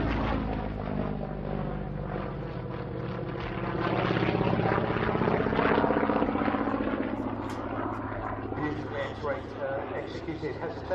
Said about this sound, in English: They were built in large numbers under license, including this one, which is, strictly speaking, a Yak C11, C for Czechoslovakia